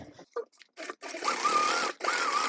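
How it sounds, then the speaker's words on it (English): A sewing machine stitches rows on a vinyl tote bag at a 3/8 inch seam allowance, running in short bursts that stop and start, then a steady stretch of about a second before pausing and resuming, close up. "I am going to do 2 rows of stitching"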